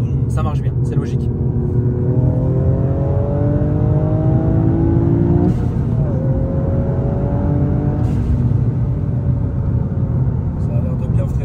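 A car on a test drive rolls along with a steady engine hum and road roar, the engine note gliding up and down, while someone talks over it throughout.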